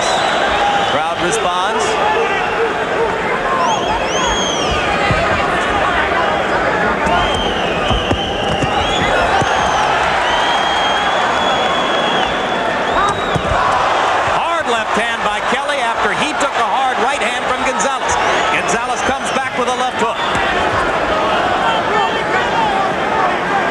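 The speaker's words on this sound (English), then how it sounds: "Crowd responds." Boxing crowd at a WBC featherweight championship bout responds with cheers and shouts after a burst of punches, a busy continuous roar under steady ringside commentary, with sharp bursts of noise near the middle.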